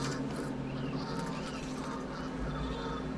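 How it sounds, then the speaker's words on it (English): A goose honks in the medieval survival game Pax Dei, its calls blending into a steady, dense ambient wash of in-game wildlife and background noise throughout. "I know there's a goose right in front of me."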